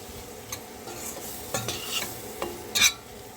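A spoon scrapes and stirs soaked Indian rice with chicken and spices in a pan, a few distinct clinks and scrapes over a soft sizzle, close and alone without talk.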